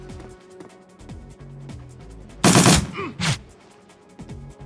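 SMG gunfire in Shadowrun Returns, a sharp loud burst followed by a second short one, standing out over quieter game music and effects, with no talk.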